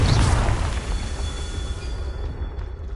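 Confringo fire spell bursting in the video game Hogwarts Legacy, a loud low boom opening the clip and fading into a sustained rumble with a thin high tone over it.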